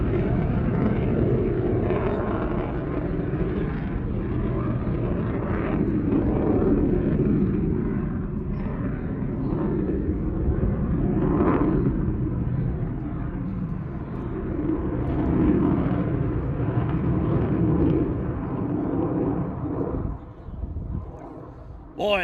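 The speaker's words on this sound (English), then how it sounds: "Boy, that was epic. A nice vertical takeoff." Royal Air Force Red Arrows jets take off at an airshow with a long, heavy rumbling roar that holds steady and loud for many seconds before fading toward the end.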